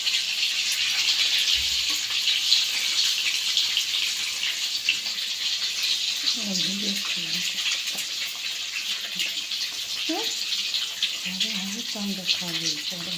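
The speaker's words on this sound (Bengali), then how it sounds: "এবার ডিমগুলোকে লাল করে ভেজে নেব।" Eggs frying red in a pan give a steady, loud hiss and sizzle throughout, with someone talking over it in the latter half.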